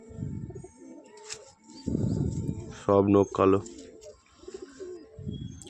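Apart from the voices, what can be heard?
pigeons cooing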